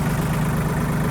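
A tractor engine idles steadily in an Alaska snowstorm, a close, loud, continuous low rumble with no speech.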